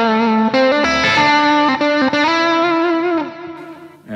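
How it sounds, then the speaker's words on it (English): Electric guitar through effects played on the bridge pickup, a bright, strong tone with distortion and chorus, a run of sustained notes changing pitch every half second or so before fading out. "Bridge pickup is too bright and too strong."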